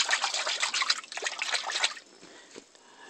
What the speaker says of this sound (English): And hopefully the water's draining out.